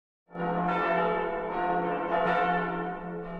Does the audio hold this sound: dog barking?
no